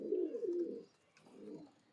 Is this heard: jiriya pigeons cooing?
yes